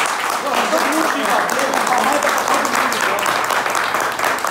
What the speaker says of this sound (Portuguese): Eu queria pedir para todo mundo uma salva de palmas.